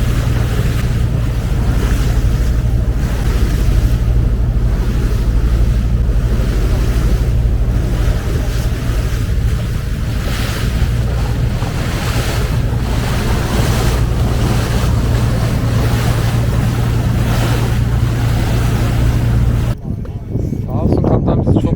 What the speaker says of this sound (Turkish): Tekne açılmaya başladı.